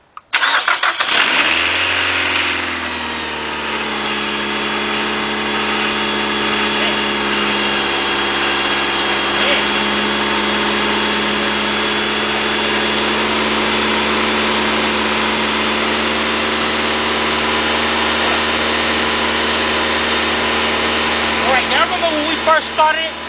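A Nissan car engine, after head gasket replacement, cranks and catches, then settles into a loud, steady idle with a constant hum that runs for over twenty seconds, with some faint clatter near the end.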